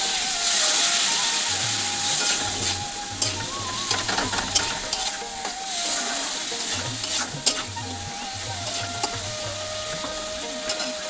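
Masala being stirred and sautéed in a pan for a potato, pointed gourd and egg curry: a constant close sizzle with rhythmic spatula scrapes in bursts, plus a few sharp clinks.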